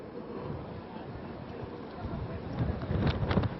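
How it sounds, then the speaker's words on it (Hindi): Strong cyclone winds buffet the microphone at Mandvi, Gujarat, a continuous rough roar and rumble that swells louder toward the end, with a reporter's voice faintly under the gusts. "अभी भी लगातार जिस तरीके से तेज हवाएं यहाँ पे चल रही है"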